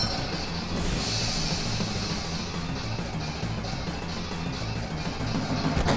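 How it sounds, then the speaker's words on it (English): Train in the video game Final Fantasy VII rolling to a halt, a steady low rumbling rail noise with a brief hiss near the second mark, continuous and moderately loud throughout with no talking. "the train has stopped."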